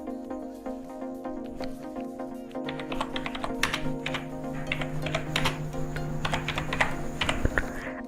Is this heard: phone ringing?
no